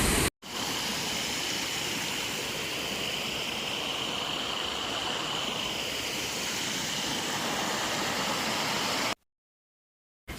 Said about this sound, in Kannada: ತಾಲೂಕಿನ ಹಿರೇಮಲ್ಲನಹಳ್ಳಿಯ ಹಳ್ಳ ಕೂಡ ನೀರು ತುಂಬಿ ಹರಿಯುತ್ತಿದ್ದು